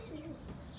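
Pigeons give a brief, soft coo at close range against a faint outdoor background.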